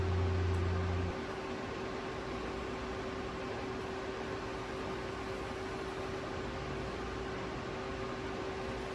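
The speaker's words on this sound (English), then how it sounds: "So we'll just keep welding like this." Continuous buzzing hiss of light, low-heat welding on thin car metal during a G35 manual swap, a steady near drone after a brief louder start, with no talking.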